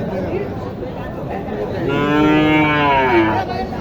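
A Sahiwal cow at the Mataji cattle market in Naogaon lets out a single drawn-out moo lasting over a second, loud and close above a low murmur of market crowd noise.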